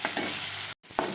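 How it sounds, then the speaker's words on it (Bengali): Onions fry and are stirred in a pan with a close, dense hiss and scraping. It breaks off for a split second, then resumes with a spatula scrape, and no one speaks. "আর একটু পেঁয়াজটা ভালো মতন কষে নেব"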